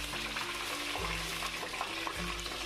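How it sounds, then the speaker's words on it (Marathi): Ground coconut and onion paste sizzling in a pan with reddened garlic for a mutton curry, a steady close frying crackle with stirring scrapes, no talking. "तर त्यामध्ये खोबऱ्या कांद्याचं वाटण मी टाकून घेतो"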